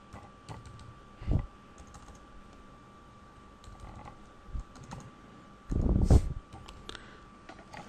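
Typing on a computer keyboard while entering profile text, mostly faint scattered key clicks with two louder bursts of rapid keystrokes, near and alone.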